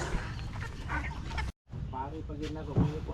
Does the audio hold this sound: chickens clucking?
yes